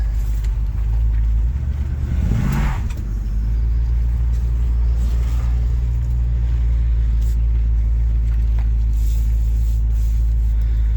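A 1969 Ford Mustang with an 8-inch rear end, a one-owner car that sat for over 30 years, drives around a property, its engine a loud, steady low rumble close by, with one brief swell partway through.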